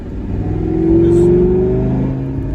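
A 2012 Lamborghini Gallardo LP550-2's V10 engine revs steadily in sport mode, its deep exhaust note swelling up and settling back, close and continuous with no talking.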